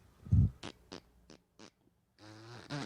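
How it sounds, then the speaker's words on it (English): A short, loud fart blasted close into a microphone during a comedy podcast, followed by people talking and laughing. "Pretty good fart."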